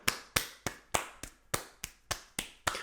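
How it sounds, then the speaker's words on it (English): About ten distinct sharp claps or snaps at a steady, slightly uneven rhythm, close and fairly quiet, from a small group of podcast hosts giving a mock round of applause, with no talking. "Round of applause, everyone"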